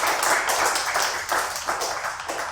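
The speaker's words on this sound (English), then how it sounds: "Can you give Linda a big round of applause?" An audience at a talk-show taping applauds a guest for a cooking business, with steady, dense clapping throughout that rises and falls slightly in waves.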